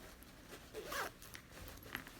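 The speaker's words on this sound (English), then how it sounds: "open your zipper, so your zipper would be open like this." A zipper on a skirt being opened, a faint, close, rasping pull lasting about two seconds with a brief louder burst midway, no voices.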